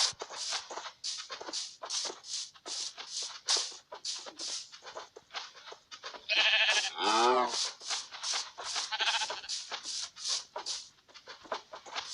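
A sheep in the Minecraft PE video game gives a clear bleat midway through a steady patter of short, repeated game sounds.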